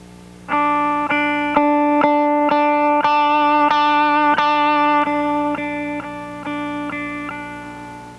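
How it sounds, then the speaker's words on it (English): An electric guitar played through a Dumble amp with no effects or overdrive pedal, sounding as a series of sharp picked chords in an even rhythm, close and loud, growing more crunchy as the attack hardens. "this is just the sound of my guitar through my Dumble amp with no effect and no overdrive system on"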